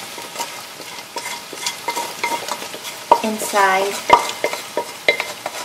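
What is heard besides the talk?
cooked mutton frying with golden brown onions on high heat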